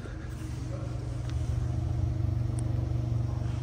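A cold Ford Focus 1.5 three-cylinder engine idles with a steady, quiet low hum and a faint even pulse, nearby and unchanging, with no one speaking.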